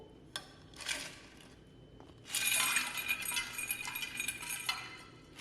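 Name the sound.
ice being put into water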